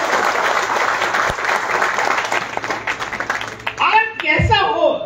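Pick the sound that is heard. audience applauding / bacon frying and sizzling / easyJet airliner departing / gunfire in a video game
audience applauding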